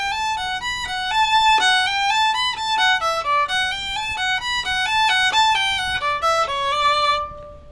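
Solo fiddle plays the B part of the old-time tune The Eighth of January, a quick run of clear bowed notes in steady rhythm, close and unaccompanied before ringing off at the end.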